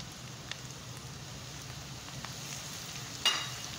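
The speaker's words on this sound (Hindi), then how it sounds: "प्याज को इतना ही हम फ्राई करेंगे" Onions frying in a pan, giving a steady, even sizzle throughout with a few faint clicks and a brief louder scrape near the end.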